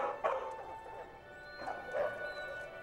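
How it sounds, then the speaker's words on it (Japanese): A dog in a movie scene gives about three short, fairly faint barks with gaps between them, over a quiet background. "それからたくさん吠えた。"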